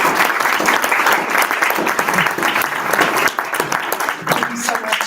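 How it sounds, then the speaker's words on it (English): Audience applause at a WCRW November luncheon, steady dense clapping filling the room for about five seconds, with a brief dip midway and some voices underneath. "let's give him another round of applause."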